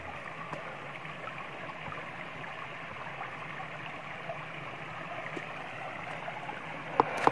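A flowing river stream near a remote hillside house, a steady broadband rush of water that stays even and moderately quiet throughout, with a few faint clicks near the end.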